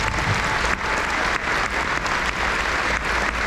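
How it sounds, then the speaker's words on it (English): Steady applause from the audience at a high school Navy JROTC change of command ceremony, a dense, continuous wash of clapping that holds its level for the whole stretch. "Give them a round of applause."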